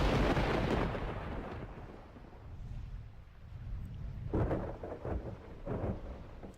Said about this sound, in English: It's very stormy as well